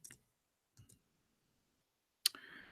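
A computer keyboard gives a few faint, spaced clicks in a silent room, then one sharp, louder click followed by a brief hiss.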